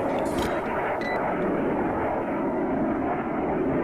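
An F-18 jet in the naval warfare game Cold Waters roars steadily as a broad continuous engine rush, loud and sustained throughout, with a few brief higher clicks near the start and no talk.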